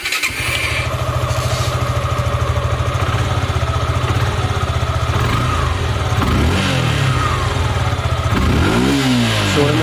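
A repaired Suzuki Gixxer SF BS6 motorcycle with new wiring fires up with a short crank, then settles into a close, steady single-cylinder idle before a few rising throttle blips near the end.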